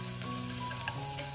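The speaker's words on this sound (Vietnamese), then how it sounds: "phi thơm hành tím lên" Shallots sizzle as they fry in oil in a pot for Vietnamese crab noodle soup broth, a steady close crackle of frying with a couple of brief stirring clinks.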